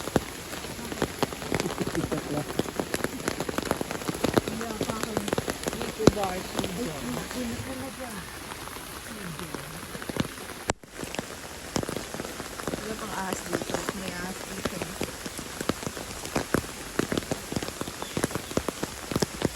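Steady rain patters on surfaces outdoors, a dense, continuous wash of drops that persists under a person's conversational voice throughout.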